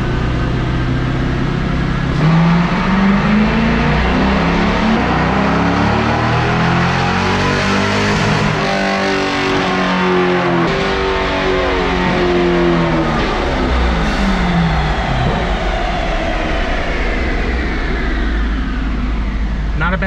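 A C5 Corvette with an automatic transmission pulls hard in second gear, its V8 engine climbing steadily in pitch as it revs up loud and close, with someone talking over the engine.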